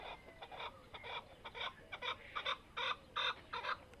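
A chicken clucks repeatedly in short, rhythmic bursts at a zoo, fairly close but not loud, over a soft outdoor background.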